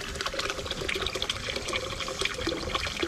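Coolant drains steadily from the radiator of a 1973 GMC C2500 during a flush, a continuous close splashing and trickling of liquid with no pauses and no voices.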